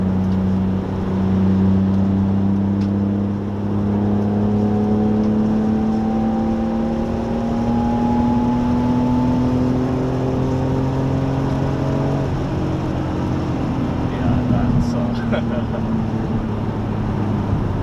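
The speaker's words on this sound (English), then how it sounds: "I love that sound. I'm so glad I got the exhaust in there." A BMW E46 M3 with an aftermarket exhaust runs loudly and continuously, its engine note climbing steadily as it revs up, then easing back before building again.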